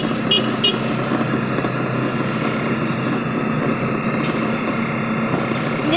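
A motorcycle tricycle with a sidecar drives along with a steady engine drone and road noise under loud wind, with a faint short horn-like toot near the start.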